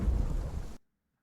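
A thunderstorm in an AI-generated umbrella advertisement: a loud, dense rumble of thunder mixed with heavy rain lasts under a second, then cuts abruptly to silence.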